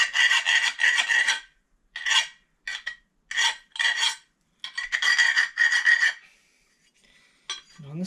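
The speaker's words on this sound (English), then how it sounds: "We shall just get rid of the burrs in there." A hand file rasps burrs off a metal brake caliper mount in quick bursts of scraping strokes, some single and some in rapid runs, close and crisp with short silent pauses between.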